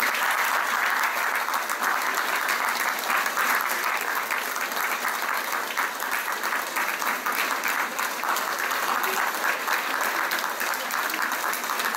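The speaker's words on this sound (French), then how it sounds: "je vous remercie de les applaudir" An audience applauds former presidents at a French regional election campaign event, with steady, dense clapping that holds evenly for the whole stretch.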